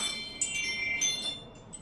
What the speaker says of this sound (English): I picked up these cute little wind chimes